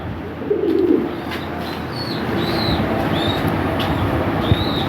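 A single brief burst of throaty cooing from Lahori Sirazi pigeons early on, then high chirps of other birds over a steady background hum.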